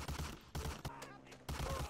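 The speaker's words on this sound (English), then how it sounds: "I'm gonna get flashbanged" A flashbang grenade detonates during a Call of Duty match, giving a sharp blast and ringing tail amid bursts of gunfire, up close and loud.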